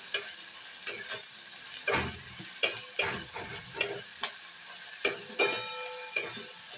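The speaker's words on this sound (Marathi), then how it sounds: "चांगला आपण एकजीव करून घेऊया आणि चांगलं परतून घेतल्यानंतर आपण याच्यामध्ये मसाले ॲड करणार आहोत" Sprouted horse gram stir-fried in a pan, a soft sizzle under repeated spatula scrapes and taps against the pan roughly every second, close and moderate, with no talking.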